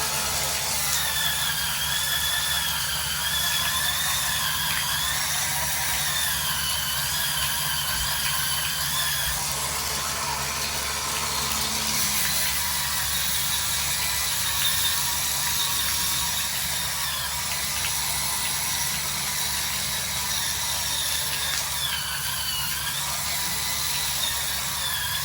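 A Hurricane Spin Scrubber powered scrubbing brush runs steadily, a continuous close whirring and rattling motor drone with a faint high whine that holds level throughout, with no voices.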